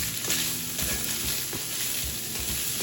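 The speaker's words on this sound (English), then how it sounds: "let's just get that pasta mixed in" Pasta being stirred into sizzling Hamburger Helper ground beef mixture in a hot pan, with a steady close frying hiss and repeated scraping, clattering stirs throughout.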